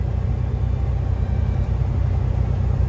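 A truck engine, carrying a load of assorted machinery, drones and rumbles steadily at held-up revs with the accelerator kept pressed, a loud, continuous, close low roar with no pauses.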